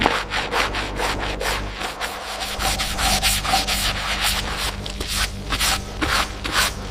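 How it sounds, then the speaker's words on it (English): Powerful industrial brushes scour heavy rust and grease from the turret of an 80-year-old KV-2 tank, a dense, continuous abrasive scrubbing with rapid rhythmic pulses, loud and close. "powerful industrial brushes methodically remove the heavy rust and grease accumulated over 80 years"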